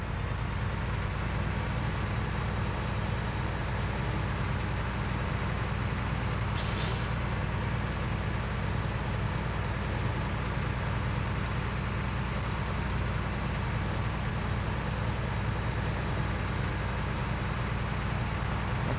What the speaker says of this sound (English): I feel like I'm just driving a truck in high gear.